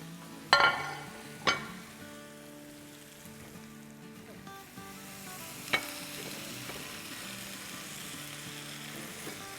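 Schezwan potato fries stirred in a pan, giving a few sharp scrapes near the start and another later over a steady soft sizzle, with no talking.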